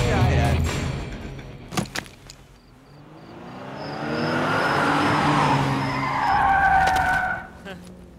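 A car skids hard in a movie scene, with long tire squeal rising and sweeping over engine noise after a few sharp bangs, loud and close.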